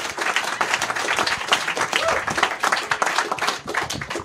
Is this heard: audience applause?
yes